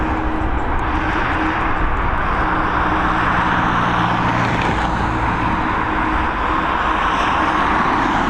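A 22-year-old Boeing 767 landing at Dublin Airport, heard as a steady, loud broadband jet roar with low engine hum throughout, no clear talk over it.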